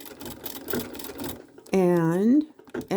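A sewing machine stitches a hanging sleeve onto a quilt, a quick rattling run of needle strokes lasting about a second and a half, followed by a spoken voice.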